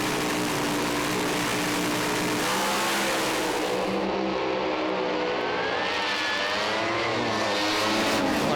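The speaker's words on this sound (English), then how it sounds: "The revs build up." Pro Alcohol funny car engines at Willowbank Raceway rev hard before a drag race, a loud, continuous, rasping roar that builds and wavers as the cars edge forward.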